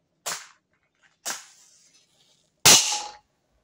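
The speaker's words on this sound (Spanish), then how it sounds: "se produjo una explosión" Three sharp pops of small hydrogen explosions ring out in near silence, the last one loudest, each a quick bang with a short fading tail.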